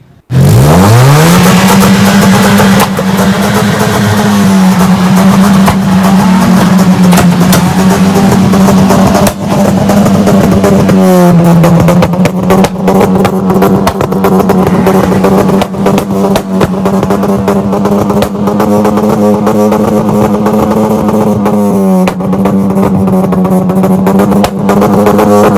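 A modified Honda Civic at a college auto show revs loudly and continuously close by, its engine holding a steady droning pitch with brief blips rising and falling over about twenty-five seconds. No one speaks.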